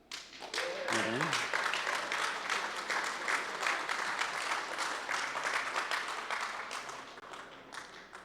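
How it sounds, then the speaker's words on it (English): A conference crowd at a Commodore history presentation breaks into sustained applause, a dense wash of clapping that rises quickly and holds for about eight seconds, with a brief voice near the start. "I think that's worth a round of applause"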